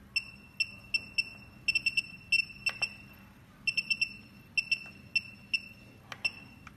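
The buzzer on a KUAIQU SPS-C3010S 30V 10A DC power supply gives short, high-pitched beeps in quick irregular bursts, some single and some in rapid clusters, over faint background hum.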